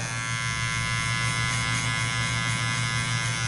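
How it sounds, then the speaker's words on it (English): A cordless hair clipper with a metal housing buzzes steadily and loudly up close while cutting a fade with a number 1 guard, a constant even hum with no speech. "you can hear the hair being cut"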